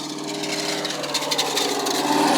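A trophy truck engine runs outdoors as the truck starts staging, a rough mechanical drone that builds steadily louder over a couple of seconds.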